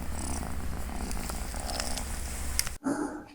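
A pet cat purrs steadily and close up on a farm where broilers and pigs are kept, a low continuous rumble lasting a few seconds before a brief break.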